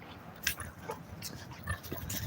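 A dog on a walk gives soft whimpers and short yips, faint and intermittent, over quiet outdoor background noise.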